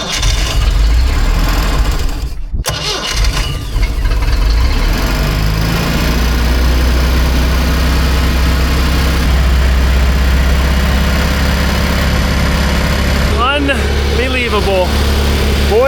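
An old Baretta boat engine cranks, cuts out briefly, then fires and runs loud and steady, close by, with a voice talking over it.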